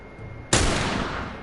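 A single loud gunshot from a gun in The Last of Us Remastered cracks sharply after a quiet moment and leaves a long, rumbling tail that slowly fades.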